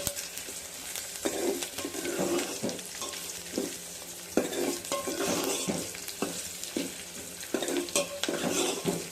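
Onions fry in a tempering pan for tomato rasam, with a steady loud sizzle broken by frequent rhythmic spatula scrapes and clinks against the pan.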